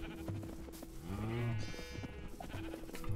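Minecraft sheep bleat in the game, a clear wavering bleat in the middle with fainter game sounds around it, heard alone without talk.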